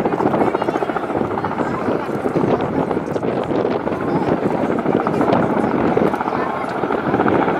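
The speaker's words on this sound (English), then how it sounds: "The Sea-Knights are fully instrumented, twin-engine tandem rotor helicopters" A Sea Knight twin-engine tandem rotor helicopter at a Marine Corps airshow demonstration, a loud steady chopping rotor throb with turbine whine and wind buffeting, continuous and close, while a voice speaks over it.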